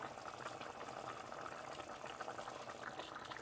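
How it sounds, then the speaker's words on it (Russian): Water bubbles and seethes in a pot as rice is poured in for chicken pilaf, a dense, steady hissing boil heard up close with no voices. "Мы сюда высыпаем рис."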